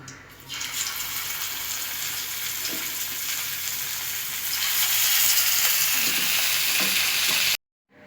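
Sankara fish pieces frying in a pan for a Tamil-style fry crackle with a loud, dense, hissing sizzle that swells midway, then cuts off abruptly near the end.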